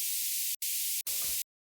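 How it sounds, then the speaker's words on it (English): Bright synthesized noise layer from the Serum synth: two short bursts of high, airy hiss cut off sharply, then a third burst with a low rumbling body beneath, ending abruptly in silence. "I have this noise layer, which is literally just a bright noise."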